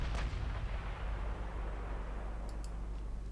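Battleship naval gunfire in the naval warfare game Ultimate Admiral Dreadnoughts: a deep booming salvo opens, followed by rumbling low-end noise and a couple of faint sharp pops later, moderately quiet overall.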